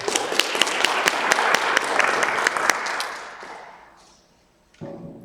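Seminar audience applause in a university computing talk series, a modest room of people clapping with distinct individual claps that fade out after about four seconds, followed by a brief voice.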